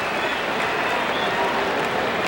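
Baseball stadium crowd applauding a fielding play, a dense, continuous wash of clapping from a large crowd at steady volume.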